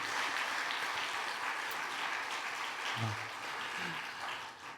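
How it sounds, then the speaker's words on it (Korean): A church congregation at a Sunday afternoon service applauds the volunteer staff, a steady, full round of clapping from many people, slightly distant, with a brief murmur of voices partway through. "우리 한번 큰 격려의 박수 올려드리도록 하겠습니다"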